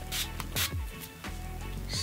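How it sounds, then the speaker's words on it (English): Pink Surfs Up beach wave spray misted onto the ends of hair in several short, close hissing bursts, with rustling of hands and hair between them. "So first I'm going to be using pink Surfs Up beach wave spray."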